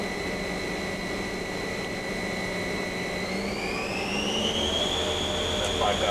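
A Fryer vertical machining center's spindle runs at high speed with a steady, fairly quiet whine that climbs in pitch partway through, over a constant low machine hum.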